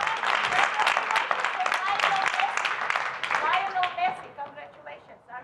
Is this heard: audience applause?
yes